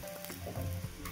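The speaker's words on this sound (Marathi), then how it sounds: "छान भाजून घ्यायचा खरपूस। मीडियम गॅसवर" An aloo paratha frying on a pan over a medium gas flame gives a steady, soft, close sizzle for a brief moment.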